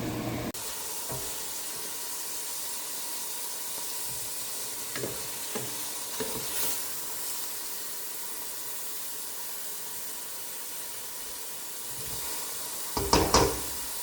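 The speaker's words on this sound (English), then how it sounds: "these mushrooms have been sauteing on high now for about 3 minutes, 5 minutes, something like that" Mushrooms sautéing on high heat in a pan for a vegan ramen, a steady broadband sizzle throughout with a few light stirring scrapes and a louder clatter near the end.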